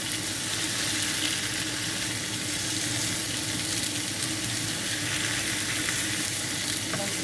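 Bacon pressed down onto a frying pan for a one-pan cooked breakfast sizzles steadily, with an even, close crackling hiss that holds throughout and no talk.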